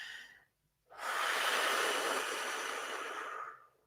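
One long, deep breath drawn in or let out through the mouth with a loud airy hiss, held for about two and a half seconds before fading, heard close and alone after a brief silence.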